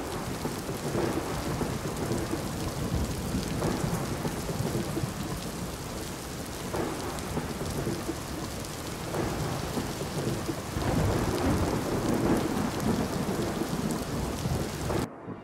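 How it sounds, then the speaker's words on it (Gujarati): Steady heavy rain pours over the hills of Dang in South Gujarat in early-morning fog, with rolling thunder rumbling through the downpour at several points, continuous and fairly loud throughout. "રાજ્યના કેટલાક વિસ્તારમાં છૂટો છવાયો વરસાદ પડ્યો હતો"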